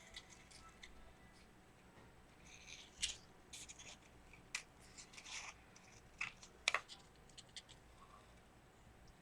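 Scissors snipping through a scallop-printed paper piece, giving quiet, irregular clicks and scratchy cuts in bursts, with a couple of sharper snips near the end and no talking.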